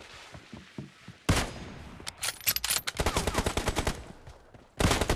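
Gunfire in the PUBG video game, loud bursts of rapid automatic shots broken by short gaps, one long sustained burst in the middle, no voices.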